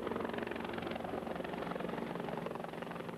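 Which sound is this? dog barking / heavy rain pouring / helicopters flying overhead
helicopters flying overhead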